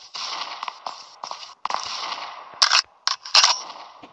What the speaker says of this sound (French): Va chercher le fusil sniper.